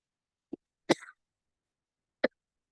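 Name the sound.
cough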